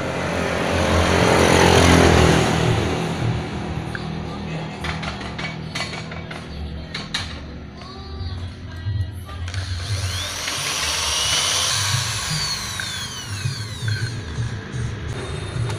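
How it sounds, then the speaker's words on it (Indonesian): A hand drill spins a valve being lapped against its seat in an engine head, the motor whining while the tool is worked up and down. The whirring is loud at the start, then comes in fainter uneven bursts with mechanical scraping. "Caranya waktu bor memutar ini dinaik turunkan gini."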